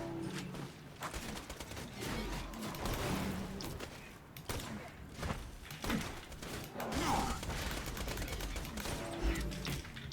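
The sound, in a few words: SMG gunfire in the video game Borderlands 2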